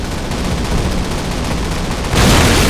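A dense, loud roar of explosion and gunfire in the Call of Duty video game swells over nearly three seconds, with no voices over it.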